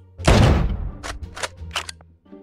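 A gunshot from a weapon in the video game El Hero gives a loud, sharp broadband blast with a short decaying tail, then a few quieter clicks and shorter bursts, with no talking.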